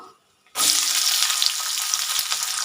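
Sliced shallots hit hot sesame oil with dried chillies for a spicy mutton fry, bursting into a loud, steady sizzle after a brief near-silence and crackling on without pause.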